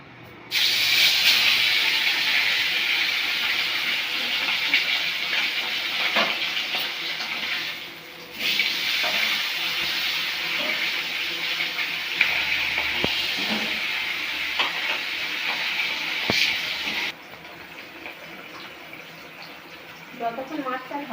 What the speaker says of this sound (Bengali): এরপরে আমরা মাছগুলো ভেজে নেব